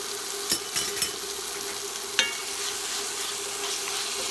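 Pork stir fry with a spoonful of hoisin sauce sizzles steadily in a hot pan, a constant bright frying hiss broken by a few sharp clinks and stirring taps, close up with no talking.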